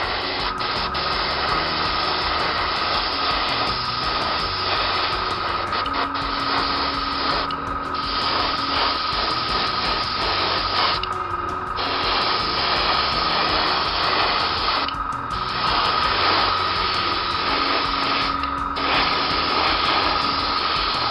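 Airbrush spray painting a Corgi Plymouth Sports Suburban model car in standard Tamiya blue: a steady close hiss, paused briefly every few seconds, over a continuous whirring compressor hum.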